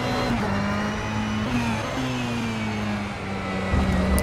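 A race car on an easy warm-up lap at Road Atlanta in rFactor 2, its engine droning steadily with slight pitch shifts as it runs at moderate speed, close and fairly loud.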